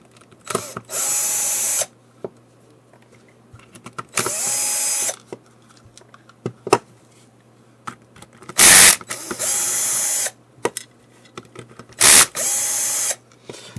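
Drill driver with its clutch on setting 2 drives screws into plastic studs, giving several loud whirring bursts of about a second each with short ratcheting clicks and handling noise between them.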